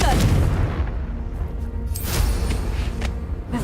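Confringo fire spell explosion in the video game Hogwarts Legacy, a loud booming burst at the start followed by rumbling crackle and further thumps, with game audio continuing throughout.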